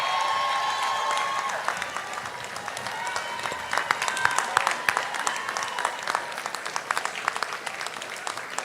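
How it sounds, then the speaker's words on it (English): Commencement ceremony audience giving graduates a round of applause and a standing ovation, a broad, sustained roar of many hands clapping with scattered cheers, loud and steady throughout. "give yourselves a round of applause, and audience, give them a standing ovation"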